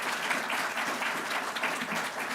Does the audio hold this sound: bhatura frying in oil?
no